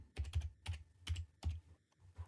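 Keystrokes on a computer keyboard while entering text in pattern-making CAD software, sounding as quick close clusters of clicks in several bursts separated by short pauses.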